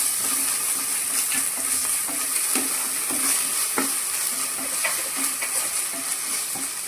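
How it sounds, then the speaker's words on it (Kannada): Ginger and garlic frying with browned onions in a pan for a chicken liver dish, giving a steady, loud, close sizzle with scraping stirs throughout and no talking. "ಇವಾಗ ಇದಕ್ಕೆ ನಾನು ಶುಂಠಿ ಬೆಳ್ಳುಳ್ಳಿಯನ್ನು ಸೇರಿಸ್ತಾ ಇದ್ದೇನೆ"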